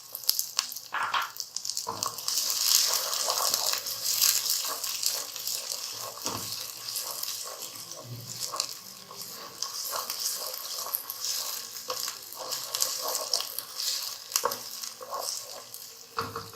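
Onions with peas sautéing in a pan give a steady close sizzle and fry, broken by the scrape of stirring throughout, with no talk over it.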